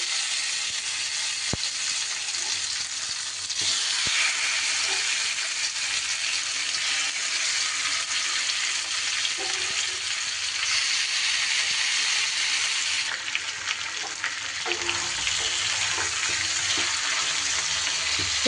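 Chicken pieces frying in mustard oil for bhuna chicken, a continuous close sizzle and hiss with a few faint stirring knocks, steady throughout.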